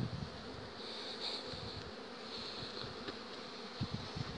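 Honeybees buzzing around beehives being readied for almond and plum pollination, a steady dense drone with a few closer bees passing, no voices.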